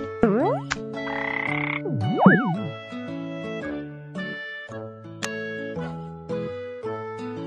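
A cartoon frog croaks to a backing of bright, tinkling jingle music in a children's animal-alphabet song, with sliding, bouncy tones and a busy melodic bed throughout.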